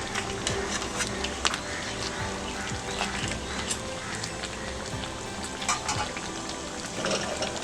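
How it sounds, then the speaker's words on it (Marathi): Stuffed crabs fry in a pan and are stirred, giving a steady soft sizzle with scattered scraping and clicking taps of the utensil, fairly quiet and close. "खेकडे हलवून घेऊया."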